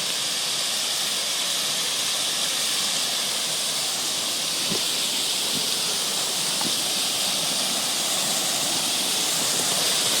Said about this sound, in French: je découvre une autre cascade dans le Morvan